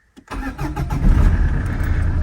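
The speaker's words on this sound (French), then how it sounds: "donc là ça démarre impec" A Citroën Xantia 2.0 HDi diesel with a new starter motor cranks briefly and fires up promptly, settling into a loud, steady idle close by, with no talk.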